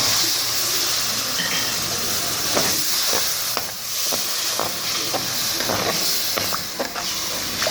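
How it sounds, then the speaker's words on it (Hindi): Water poured into frying salt-and-chili masala for dhaba-style chana dal sizzles and hisses steadily, with scattered sharp crackles and stirring clicks throughout, close and fairly loud, no talking. "नमक मिर्च भूनने के बाद अब हम इसमें डालेंगे 1 कप पानी।"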